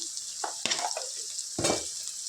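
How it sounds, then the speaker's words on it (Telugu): Ginger-garlic paste fries with mutton in a pan, a steady close sizzle with a few stirring scrapes and clinks of a spoon against the vessel, no talking. "అల్లం వెల్లుల్లి పేస్ట్ పచ్చివాసన పోయేంత వరకు చక్కగా ఫ్రై చేసుకోవాలి"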